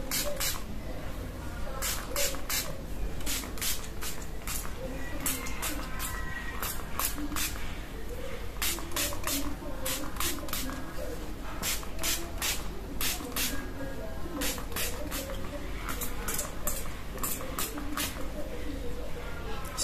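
A hair lotion containing onion is sprayed onto hair in many quick, crisp hissing pumps, grouped in clusters of two or three with short pauses between, while someone talks softly underneath.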